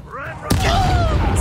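Accio summoning spell cast in Hogwarts Legacy: a rising magical swirl of sweeping tones, then a sharp, loud impact followed by a shimmering, rushing tail.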